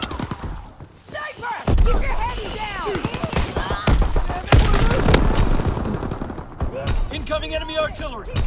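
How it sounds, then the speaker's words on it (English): Heavy combat in a Call of Duty: WWII domination match on the Shipment 1944 map: rapid gunfire bursts and deep booming impacts, loud and close throughout, with voices calling out over the fighting. "Incoming enemy artillery! Get to cover!"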